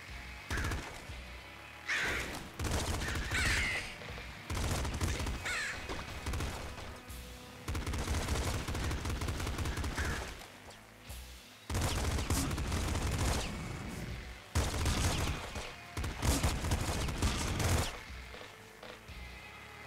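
Machine gun fire in Nuclear Throne comes in repeated rapid bursts of crackling shots, separated by short pauses, loud and dense across the run.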